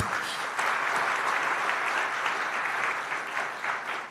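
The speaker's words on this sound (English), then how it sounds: "Shall we give him another round of applause?" Sustained audience applause at a speech event in Penang honoring a heritage brands project, a dense, steady wash of many hands clapping at close range for about four seconds with no talking.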